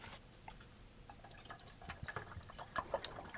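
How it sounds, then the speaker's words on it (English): Water poured into a cooking pot on a stove inside a camper van, giving soft trickling and dripping splashes that grow denser toward the end, quiet and close with no talk. "I'm going to put a little water in."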